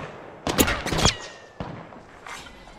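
Gunfire in the video game Apex Legends: two loud close bursts of rapid shots, then a few fainter single shots with ringing tails.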